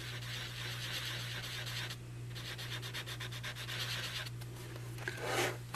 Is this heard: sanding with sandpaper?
yes